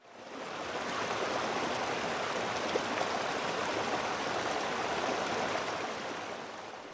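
Steady babbling brook from a white noise sleep sound machine, a continuous broadband rush of flowing water that fades in and holds an even, unbroken level with no voices.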